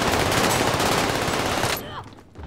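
Dense, continuous automatic gunfire in the video game Warzone, a loud near rattle of rapid shots that cuts off abruptly near the end, leaving a brief quiet tail.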